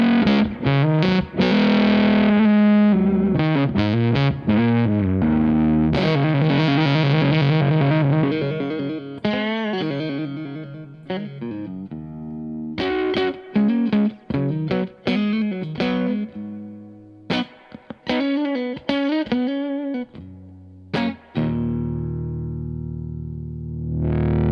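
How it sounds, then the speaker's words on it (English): Electric guitar driven through a Haze 67 fuzz pedal into a 5-watt Carr Trail Rider amp, playing thick, saturated chords and riffs with choppy stops and sustained notes, loud and alone for the full stretch. "Okay, now I'm going to kick in the Haze 67 fuzz."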